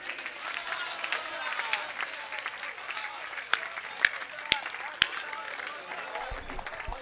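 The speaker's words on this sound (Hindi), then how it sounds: "एक बार जोरदार तालियां दोनों हाथ उठा करके बजाइए" Audience applause at a Hindi poetry recital, a kavi sammelan, rising as a steady wash of clapping across the whole stretch, with a few sharper claps standing out near the end.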